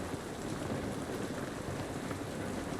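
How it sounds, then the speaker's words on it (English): Steady rain pours in the video game The Last of Us Part I, a dense, even wash of falling drops that stays constant and moderately quiet with no voices. "Look how good this rain looks."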